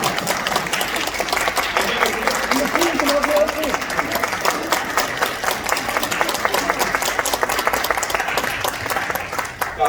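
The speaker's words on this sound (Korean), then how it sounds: "큰 박수 좀 부탁드리겠습니다" An audience at a Korean election candidacy announcement and press event applauds steadily, dense clapping that fills the room for about ten seconds with a faint voice under it.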